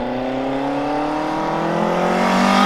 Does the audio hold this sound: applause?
no